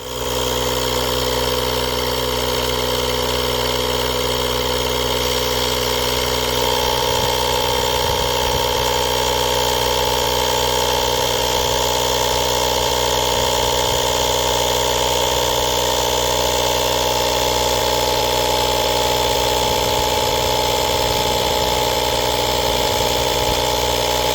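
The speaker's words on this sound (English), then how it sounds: "It has a long cord to pump the tire up." A UTRAI 6000A portable air compressor inflates a car tire with a constant loud, buzzing motor drone and steady mechanical vibration that runs without a break from start to finish.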